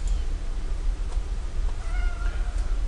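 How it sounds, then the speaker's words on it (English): A house cat meows a couple of times, fairly faint and thin, over a steady low background hum, with no talking. "There's Kitty meowing."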